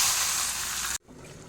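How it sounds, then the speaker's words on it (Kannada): Tempering spices crackle and sizzle loudly in hot oil for a bottle gourd stir-fry, a dense steady hiss that cuts off abruptly into near silence. "ಅದಕ್ಕೆ ಒಂದು ಒಗ್ಗರಣೆಯನ್ನು ಹಾಕ್ತೇನೆ."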